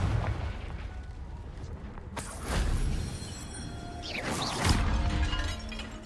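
A Confringo fire spell blasts in Hogwarts Legacy, with two loud, booming explosions about two seconds apart, each followed by crackling debris, over a constant rumble of game background sound.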